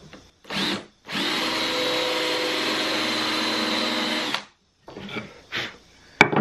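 A power drill recessing a screw hole in wood for a miter saw cabinet repair, a loud sustained whine of about three seconds after a brief burst, followed by short bumps and clicks.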